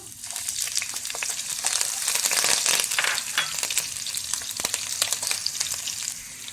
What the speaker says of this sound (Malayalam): എണ്ണ ചൂടാകുമ്പോൾ അതിലേക്ക് നമുക്ക് 2 അല്ലി വെളുത്തുള്ളി അരിഞ്ഞതിട്ട് കൊടുക്കാം. 4 പച്ചമുളക് അരിഞ്ഞതിടാം.